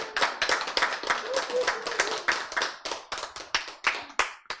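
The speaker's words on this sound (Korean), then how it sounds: "박수." A small audience at a health lecture claps in distinct, uneven strikes, each hand slap separately audible and fairly close, forming a loose, irregular rhythm rather than a blended roar.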